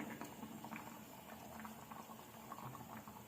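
Bisi bele bath with tamarind, jaggery and rice simmering in a pot, a soft continuous bubbling and gurgling, faint and close, with no voices.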